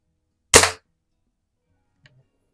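A 499B BB gun fires a single BB at a cardboard target indoors. One sharp, close crack sounds, followed about a second and a half later by a faint, tiny tick.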